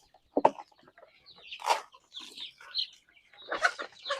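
Young native country chickens cluck and squawk in short, scattered bursts at feeding time on a poultry farm, fairly close and separated by brief quiet gaps.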